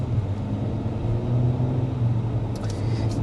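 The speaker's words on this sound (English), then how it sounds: "Here's an example of just a normal acceleration." A 2025 Acura MDX SUV with a 10-speed automatic gathers speed gently, a steady low engine rumble with a soft rising hum heard from inside the cabin, moderate and unbroken.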